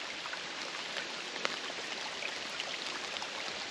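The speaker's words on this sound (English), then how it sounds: "Anyway, here's a stream." A small stream flows through forest on a multi-night hike at Pictured Rocks National Lakeshore, giving a soft, steady trickling wash with faint scattered drips, low and close.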